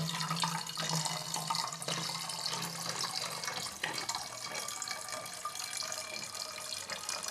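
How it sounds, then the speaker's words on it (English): Water is poured into a water bottle, a steady close splashing rush that runs continuously, loud and unbroken, with no talking. "Okay, I have some water. I'm going to pour it into"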